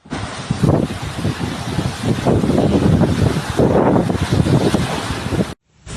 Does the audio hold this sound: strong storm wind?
yes